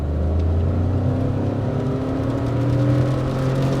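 A 2022 Citroen C3 turbo-petrol pulls hard in second gear, its engine note rising steadily through the revs as a loud, continuous drone heard from inside the car.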